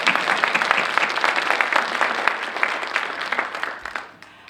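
Audience applause for three children at a community read-in event, a steady crowd clapping that carries on for several seconds before tapering off at the end.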